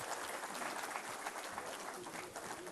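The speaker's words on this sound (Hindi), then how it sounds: "तालियों से आप सब आवाज़ दें।" A mushaira audience bursts into sustained applause, a dense, even wash of clapping from many hands that holds steady throughout without any speech over it.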